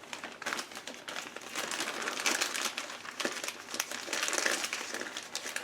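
A plastic bag of small gearbox parts for a Land Rover R380 overhaul crinkles and rustles close by in quick, irregular bursts, with no talk.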